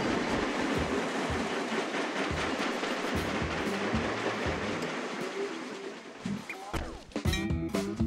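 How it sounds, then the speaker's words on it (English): Train in the video game Train Crisis rolling steadily with continuous rumble and clickety-clack of wheels, loud and close, then brakes squealing and metallic screeches near the end as it slows at a station. "I forgot that the train stops at the station."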